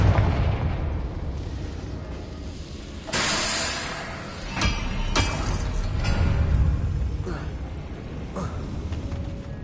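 The Confringo blasting spell in the Hogwarts Legacy video game sets off a series of loud booming explosions, several sharp blasts in quick succession over rumbling game noise, with voices faintly underneath.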